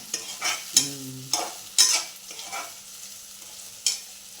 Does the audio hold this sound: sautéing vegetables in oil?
yes